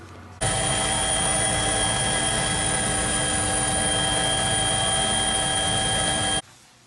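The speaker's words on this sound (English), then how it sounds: "It's time for the first afternoon liftoff. If you're in group 1, you're in the helicopter" A helicopter lifting off for heli-hiking in the Bugaboos, a loud steady engine whine and rotor roar that starts abruptly, holds constant for about six seconds, then cuts away.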